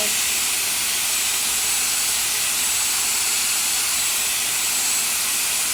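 A handheld hair dryer with a round curling brush blows hot air while styling hair in layers, a steady close, loud whooshing hiss that runs without a break.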